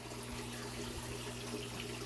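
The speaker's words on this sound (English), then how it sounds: "drizzle our water right in there on top of the potting soil." Water from a standard water bottle trickles and splashes steadily onto potting soil in a Tupperware container for a couple of seconds, a soft continuous pouring sound close by.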